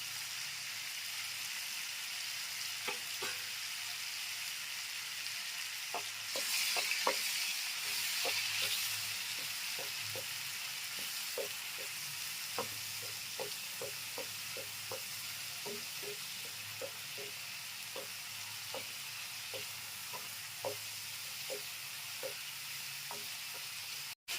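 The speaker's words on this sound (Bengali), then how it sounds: "মশলা কষানো হয়ে গেছে" Prawn spice paste with turmeric and green chili frying steadily in a pan, a constant sizzling hiss with many small crackling pops, a brief louder stir-like burst early on, with no voices.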